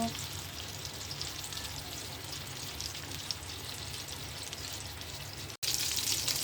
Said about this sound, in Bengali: মাছ ভাজি করছি, রুই মাছ এখন ভাজি করব।